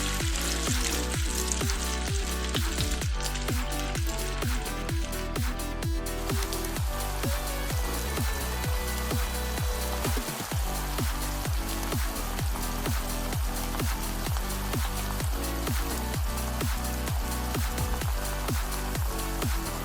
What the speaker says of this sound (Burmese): စီပူလာရင်ခုနကနေထားတဲ့ကြက်သားတွေထည့်ကြော်ပါမယ်